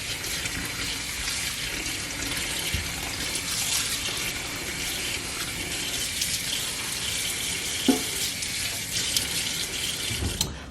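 Tap water runs steadily into a container of freshly foraged dandelions being left to soak, a continuous broadband splashing rush that stays loud and even throughout, with a few small knocks and no talking.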